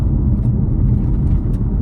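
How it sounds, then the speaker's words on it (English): Inside a 2020 Ford Shelby GT500 on a mountain road, a steady, loud low rumble of engine and road noise runs without pause and no one speaks. "I'm just driving on mountain roads,"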